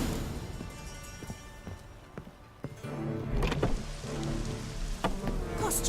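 Rain falling across a city in The Witcher 3 game world, a steady patter with scattered sharp ticks and knocks, swelling slightly louder in the second half, with no talk over it.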